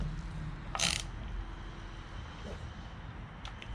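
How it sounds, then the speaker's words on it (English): Bolts being tightened on the side of an aluminum Viair air compressor during a rebuild, with a short sharp metallic ratcheting burst near the start and faint clicks later over a quiet room hum. "I'm gonna go back and tighten these bolts up on the side because I just snugged them up"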